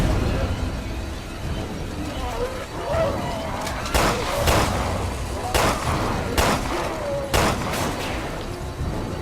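Gunfire in the survival-horror video game Resident Evil Revelations 2: several sharp, loud shots in separate bursts, spaced a second or so apart, over a steady game ambience with faint voices.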